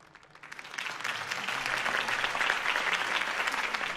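Crowd applause in a Batman Telltale video game scene, following Harvey Dent's campaign speech: dense, sustained clapping that swells in after a quiet start and holds steady and fairly loud, with no talk over it.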